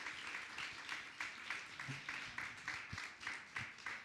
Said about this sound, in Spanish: hay que replicar un aplauso para nuestras ponentes y nuestros ponentes